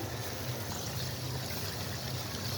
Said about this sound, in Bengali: এখন আমি ঝোলের জন্য পানি দিয়ে দিব।